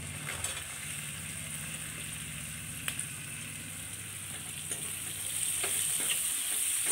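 Chopped onion goes into hot oil with green chillies for a Maharashtrian potato bhaji, sizzling and crackling steadily with faint stirring scrapes, a low hum underneath, growing slightly louder toward the end.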